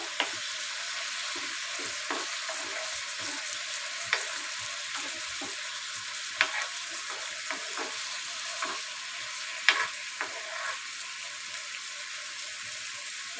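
Apple chutney frying in a pan gives a continuous close sizzle, with repeated light scrapes and taps as it is stirred, steady and fairly quiet throughout.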